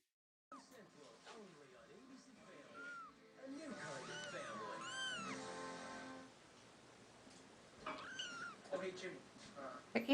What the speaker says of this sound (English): we're gonna see kittens talking